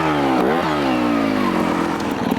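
A Beta Evo 250 trials motorcycle engine, close and loud, running steadily with a couple of quick blips of the throttle early on before settling into a buzzing idle.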